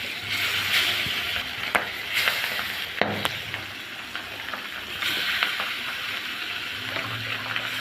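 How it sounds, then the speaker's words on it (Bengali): Pabda fish frying in hot oil in a pan on the stove, a continuous close sizzle broken by sharp pops and stirring clatter, with no voices. "তেলটা গরম হলে আমি এক এক করে মাছগুলা দিয়ে দিব।"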